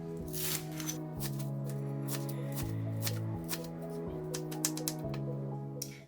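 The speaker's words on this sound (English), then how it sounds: "So we're going to cut it into a very small pieces like that." Knife chopping watercress stems on a cutting board in a kitchen, a rapid run of crisp close taps with a steady tone underneath.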